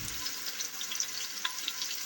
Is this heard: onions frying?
yes